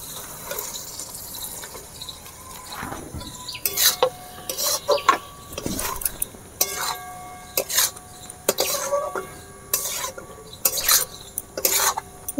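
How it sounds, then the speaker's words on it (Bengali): Boiled potato balls are stirred through a chili garlic sauce in a pan, giving intermittent wet scraping and sloshing bursts, close and irregular, over faint background sound. "এবারে আমি সেদ্ধ করে রাখা বলগুলো দিয়ে দেব।"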